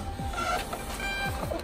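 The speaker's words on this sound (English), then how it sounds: "Label pops out from our Rollo printer here." A Rollo thermal label printer feeds out a shipping label, giving a soft mechanical whir with a few faint motor sweeps, quiet and close with no talking.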